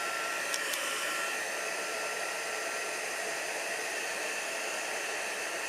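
Heat embossing gun blowing hot air over embossing powder, a steady close hiss of rushing air that continues unbroken and evenly at moderate level, with a couple of faint clicks early on.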